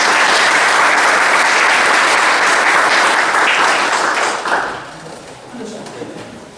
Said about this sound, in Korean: 우리 박수 한번